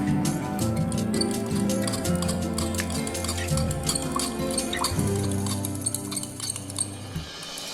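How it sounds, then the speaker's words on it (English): Salt is stirred into water in a glass container to dissolve it, with a steady run of close, light clinks and swirling liquid sounds lasting throughout. "I am going to stir it."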